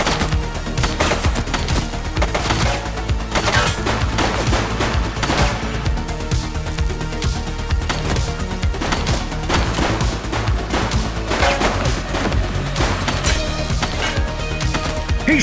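Dense, loud gunfire fills a shootout in the police video game The Precinct, with rapid overlapping shots and bursts continuing without pause, sharp cracks layered over a constant roar of action.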